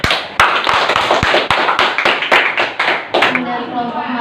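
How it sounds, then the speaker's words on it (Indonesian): Classroom students clap for a presenting group after their poster presentation, a close, loud run of uneven hand claps with sharp individual slaps, fading out near the end. "kita berikan tepuk tangan untuk kelompok Matius"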